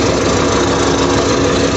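An overhauled vehicle engine runs steadily at idle, a loud, continuous mechanical drone with rapid knocking vibration and no voices.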